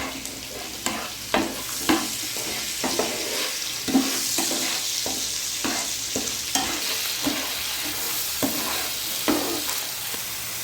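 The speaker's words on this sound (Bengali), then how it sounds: "মশলাটা আমি ভালো করে কষিয়ে নেব।" A Bengali spice masala of chilli powders, turmeric and sugar fries and is stirred in a pan for raw banana kofta, with a loud steady sizzle broken by regular sharp spatula scrapes and taps, close and without talk.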